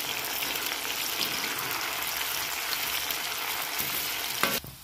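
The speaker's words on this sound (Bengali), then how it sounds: "ভালো করে নেড়ে ভেজে নেব।" Potatoes frying in hot oil while being stirred make a loud, continuous close sizzle, with a few scraping stirs and a brief clatter near the end as the sound cuts away.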